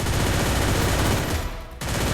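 Loud, sustained bursts of gunfire from the shooting video game Free Fire, dense and continuous with a brief dip in intensity near the end.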